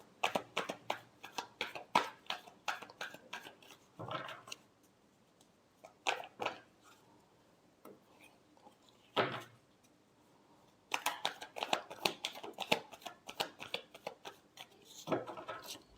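Tarot cards being shuffled by hand, a rapid flurry of crisp riffling and slapping bursts, a pause with a couple of soft thuds, then another fast run of shuffling, close and fairly quiet with no talking.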